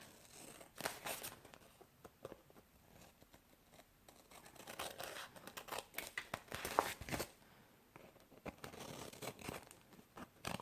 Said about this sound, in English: I'm going to cut those out. Just take my scissors.